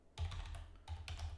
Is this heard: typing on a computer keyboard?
yes